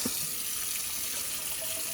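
Warm water runs steadily from a kitchen tap into a sink, a continuous soft splashing hiss with no voices.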